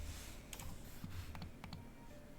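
Quick bursts of keystrokes on a computer keyboard, close and crisp, a short run of clicky taps with brief pauses, no talking.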